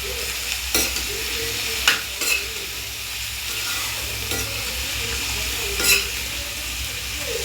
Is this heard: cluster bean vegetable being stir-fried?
yes